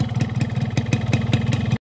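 A cold two-stroke motorcycle engine running on Ultraline Racing 2T oil, a close, rapid uneven putter with clattery pops that cuts off abruptly near the end.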